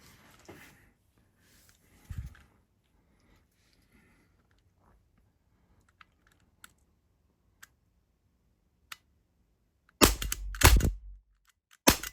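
An Umarex Glock 17 airgun fires near the end, a sharp snapping shot followed by a few quick clicks and rattles, after a long quiet stretch with faint isolated ticks and handling noises.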